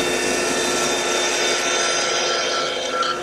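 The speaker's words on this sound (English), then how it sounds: "I'm going to now cut these pieces on the bandsaw at a ½ inch from" A bandsaw slices through wooden chair back slats, cutting them to length. The blade makes a steady, loud whir with a rasping bite that holds for the whole stretch, close up and with no talking.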